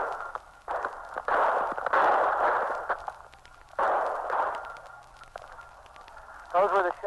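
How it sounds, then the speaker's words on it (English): Gunshots from a 1959 shortwave radio broadcast of a police capture in front of a house: scattered sharp cracks in hissy, band-limited radio audio, with excited voices talking throughout. "Listen closely now, and you'll hear the actual gunfire and the excitement that follows."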